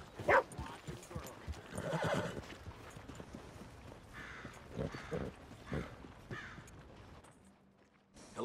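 A horse whinnies loudly up close in Red Dead Redemption 2, with clip-clop hooves and snorting that follow in short bursts.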